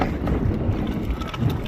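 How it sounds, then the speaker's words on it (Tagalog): Strong wind buffets the microphone in a continuous low roar, steady and loud throughout with no voices. "Lakas ng simoy ng hangin."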